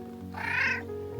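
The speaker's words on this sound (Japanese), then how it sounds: "なかなかの音がしてきましたけど。このうちの猫ちゃんかな？" A single drawn-out cat meow in a village in southern France, fairly close and clear, rising and falling over about half a second against a low steady background hum.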